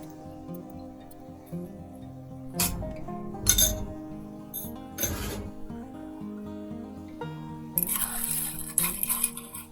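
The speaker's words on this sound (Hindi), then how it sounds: "अब ले गिलास जिस पे आप बनाना चाहते हैं उस पर डालेंगे क्रस्ट की हुई आइस।" Crushed ice tumbling into a glass for a virgin mint mojito, a few sharp clinking rattles and crunchy bursts over a quiet backdrop of soft music, with a final longer rustle of ice.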